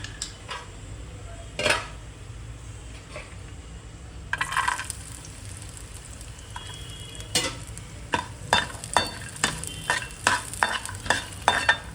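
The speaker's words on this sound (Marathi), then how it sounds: "पहिले आपण खोबरं भाजूया." Dried coconut roasting in a little oil in a hot pan for a village-style mutton masala: a soft low sizzle under scattered scrapes and clinks of a spoon against the pan, with stirring growing quicker and busier toward the end.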